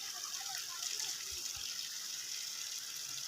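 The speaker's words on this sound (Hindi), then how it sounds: "ये देखें इधर से पानी गुजर रहा है, इस गली का पानी भी रोड पे आ रहा है।" Rainwater flowing out of a side street onto a road after heavy rain, a steady broad gushing and hissing rush, close and continuous, with a couple of faint low thuds.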